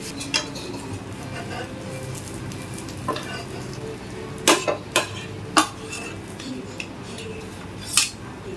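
A tawa-cooked pizza being lifted from the hot griddle onto a plate, with a steady background sizzle and several sharp metallic clinks and scrapes of a utensil against the pan, close up.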